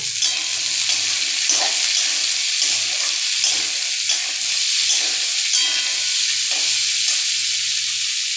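Desi chickpeas are frying in a pan in hot oil. A loud, even hiss of sizzling runs throughout, under a loose rhythm of soft low thumps and scrapes from stirring.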